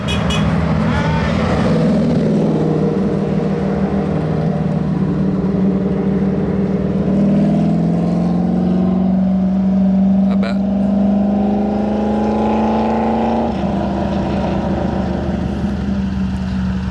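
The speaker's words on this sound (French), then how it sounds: "Voilà pour l'échappement Brabus, et qui est monté à 650 chevaux." A Mercedes G63 AMG Cabriolet with a Brabus exhaust, tuned to 650 horsepower, revs and roars up and down, the exhaust note rising in pitch over several seconds before dropping back to a deep idle.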